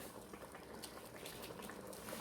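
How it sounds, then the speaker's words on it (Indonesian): Steady bubbling of a pot of chicken curry on the boil, a dense continuous simmer with soft pops and gurgles throughout, fairly quiet and close. "Ini sudah mendidih ya"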